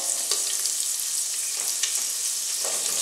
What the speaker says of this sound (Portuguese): vou aqui fritar essa carne seca, que tá cheirosíssima.